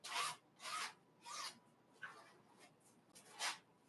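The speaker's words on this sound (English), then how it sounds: "now I can use a little scraper like this. Kind of go like this. Scrape it any way I want. Kind of spread the paint around." A small scraper drags paint across a canvas during abstract painting, five distinct rasping, smearing strokes in a steady rhythm, close and fairly quiet, with no talking.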